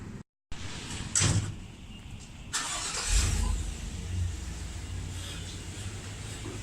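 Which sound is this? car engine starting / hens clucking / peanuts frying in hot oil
car engine starting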